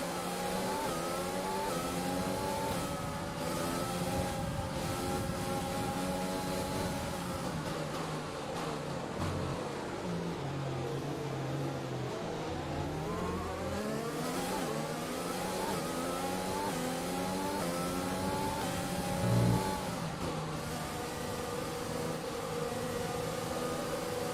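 Formula 1 race cars in the F1 2020 racing game on a formation lap, engines whining and revving through gear changes, with pitch sweeps as cars pass and brake for corners, loud and continuous with no talk.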